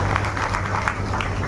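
A crowd at a political gathering applauds to welcome a district president, a steady, dense patter of clapping over a constant low hum, briefly heard.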